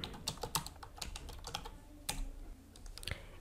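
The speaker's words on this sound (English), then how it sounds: "In this search plugins box, type header and footer." Quick bursts of keystrokes on a computer keyboard as text is typed into a plugin search box. The clicks come close and clear in an uneven rhythm, with no talking.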